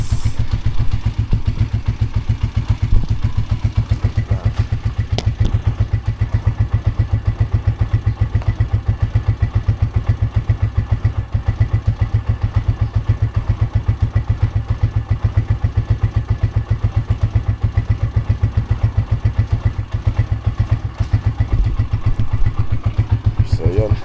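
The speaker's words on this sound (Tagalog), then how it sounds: "Ayos naman yung andar ng motor natin." A motorcycle engine idles steadily and loudly nearby, a continuous low rhythmic putter running without pause.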